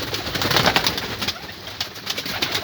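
Pigeons coo close by in a steady run of soft throaty calls, with faint fluttering and rustling in the background and no speech.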